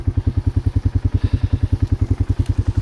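A motorcycle engine idles close by at night beside a swamp, giving a steady, deep, rapid thumping pulse with no voices.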